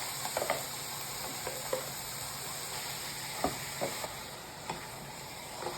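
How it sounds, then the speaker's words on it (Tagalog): Ground pork sizzles and crackles in a dry non-stick pan with no oil, a steady hiss broken by occasional stirring clicks and scrapes, moderately close. "Lalagay natin yung giniling. Walang kahit na ano sa pan."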